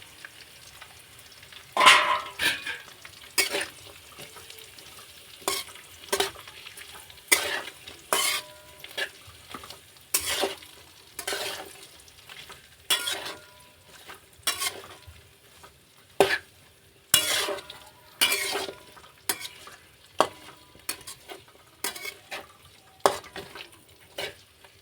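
Onions being stirred and fried in a spiced pan for a Gujarati matar paneer curry: repeated loud scraping stirs at an irregular rhythm over a steady low sizzle, with no talking.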